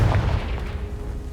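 A single Confringo explosive curse blast in Hogwarts Legacy lands as one deep, booming burst at the start and then decays into a low rumbling tail that fades over about a second.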